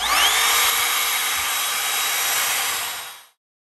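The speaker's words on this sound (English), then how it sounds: "The importance of this router is that you keep the bed of the router flat with the cedar there" A router trimmer runs at a steady high whine while cutting into cedar cladding for a door hinge, loud and close, with the motor spinning up at the start and cutting off near the end.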